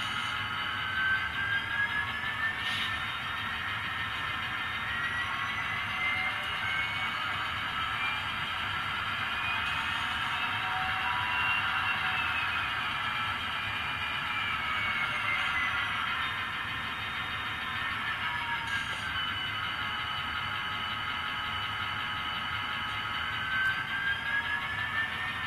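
An ESU LokSound V4.0 decoder plays a C&NW SD40-2 with an EMD 645E3 diesel being notched up by hand, giving a steady droning engine roar with a high whine that rises and falls over about 25 seconds. No one speaks.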